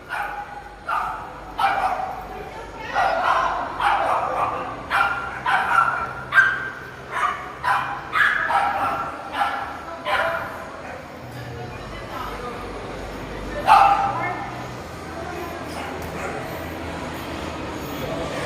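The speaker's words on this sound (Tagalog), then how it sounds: "Alam ko ano yun yung aso eh." A dog barks repeatedly in quick bursts, fairly close, with scattered yips and a pause before one last loud bark; voices murmur faintly.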